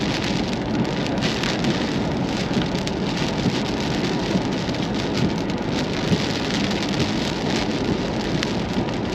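Steady, heavy rain pours down during a Nebraska thunderstorm, a dense unbroken hiss drumming on surfaces with faint low rumble beneath, no voices.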